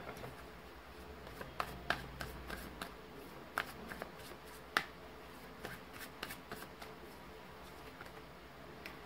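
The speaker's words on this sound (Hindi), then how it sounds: "ऑरिकल कार्ड से भी 4 कार्ड्स निकालूंगी मैं" Oracle cards are shuffled and drawn during a tarot reading, faint papery flicks and soft snaps scattered irregularly over a quiet room hum, with no talk.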